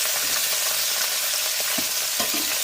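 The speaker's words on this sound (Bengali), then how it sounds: "বন্ধুরা, আমার মাছ টকের জন্য তেল গরম হয়ে গেছে, এবার আমি পুঁটি মাছগুলো দিয়ে দেব।" Small puti fish frying in hot oil for a sour fish curry, a steady dense sizzle filling the clip with a few brief sharper pops and clinks near the end, no voices.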